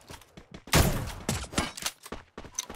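Enemy gunfire from a hill in a mobile shooter played on an iPhone XR during a tournament: a burst of loud, sharp shots followed by scattered cracks and quick volleys at irregular intervals.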